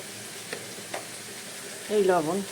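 Chicken pieces with turmeric and salt are stirred as they fry in a pan. A steady, soft sizzle runs throughout with a couple of faint scraping stirs, and a voice speaks briefly near the end.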